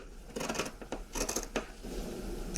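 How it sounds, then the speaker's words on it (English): Scissors snip through the seam allowance of a fabric waistcoat, a few crisp close cuts in quick succession, then quiet. "Next, we're going to cut back the seam allowance and clip it."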